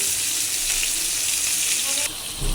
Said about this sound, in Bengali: রুই মাছ হচ্ছে ভাজার জন্য দিয়ে দিচ্ছি